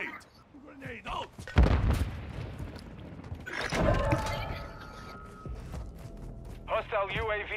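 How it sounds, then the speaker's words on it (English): A flash grenade goes off in Call of Duty with a heavy bang, followed by a second rumbling burst amid scattered gunfire and in-game voices. "Throwing flash grenade! Grenade out!"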